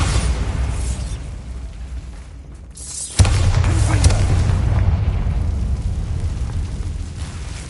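A Bombarda spell detonating in a Harry Potter style video game, a sudden loud boom followed by a sustained rumbling roar of debris, after a quieter stretch of ambient game sound.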